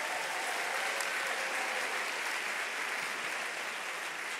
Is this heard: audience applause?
yes